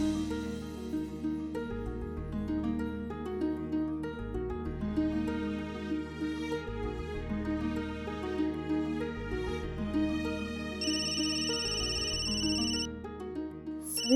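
A phone rings in a Marathi TV drama scene over a steady bed of background score, a clear repeating ring pattern sounding throughout with no talk.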